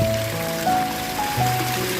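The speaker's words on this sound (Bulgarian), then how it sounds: "Най-последната ми спирка за днес е да си налея топла минерална вода за пиене." Warm mineral water runs steadily from a spring tap in the Lozen mountains, a continuous close splashing trickle with faint tonal hum, heard alone without talk.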